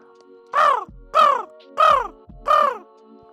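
A human voice imitates a raven, giving four loud, evenly spaced harsh caws, close and alone, with short silent gaps between them.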